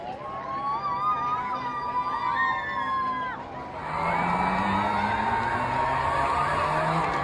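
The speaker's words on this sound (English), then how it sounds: "The crowd are going wild for Gareth." A roadside crowd cheers and whoops for an Olympic torchbearer named Gareth during the torch relay in Swindon. The cheering is loud and continuous, with shrill whistle-like tones over the babble, and it swells further about halfway through.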